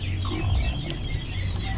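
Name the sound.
mother hen clucking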